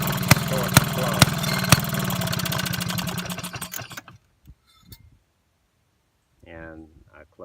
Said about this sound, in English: I will shut down the engine now, just a little quieter. Actually a kickstart engine